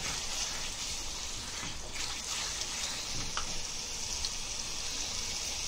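Egg paneer gravy with peas frying in a pan, a steady close sizzle and crackle running unbroken throughout with faint scraping, no voices.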